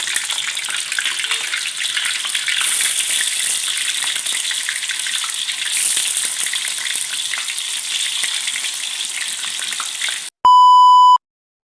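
Tofu frying in hot oil, a steady dense sizzle with crackling bursts running continuously for about ten seconds, then cut off by a loud electronic beep tone at the end.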